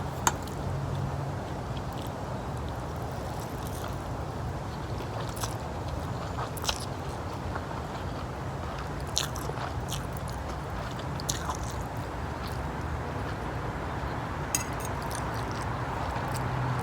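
Someone eats stir-fried rice noodles with Thai pork sausage, with close, continuous wet chewing and small squishy bites and clicks throughout.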